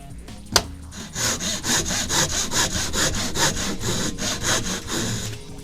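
Hand saw cutting shallowly into a small 20x40 wooden bar, a steady run of rhythmic back-and-forth rasping strokes, close and moderately loud, following a single sharp knock at the start.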